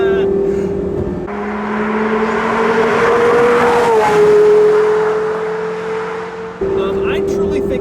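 A Porsche Carrera GT's V10 revs and pulls through the gears, a high, clean wail rising steadily, easing back before a gear change and surging again, loud and close.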